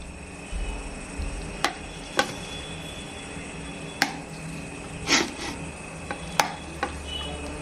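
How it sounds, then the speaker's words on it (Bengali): Drained boiled eggs sliced into pieces with a knife on a board, giving several sharp, separate chopping clicks spaced irregularly over a quiet background. "ডিমটাকে আমি জল ঝরিয়ে নিয়েছি নিয়ে এবার আমি পিস করে কেটে নিচ্ছি"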